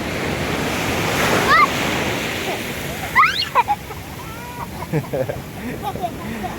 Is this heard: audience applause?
no